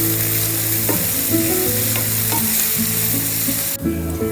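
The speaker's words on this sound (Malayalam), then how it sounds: "ഈ സവോളയിലേക്ക് നമുക്ക് ആവശ്യത്തിന് ഉപ്പ് ചേർത്ത് കൊടുക്കാം. ഇനി നന്നായിട്ട് വഴറ്റുക." Sliced onions with salt sauté in a pan for a tomato fry, a loud continuous sizzle close up, punctuated by repeated scraping stirs of a spatula, no voices.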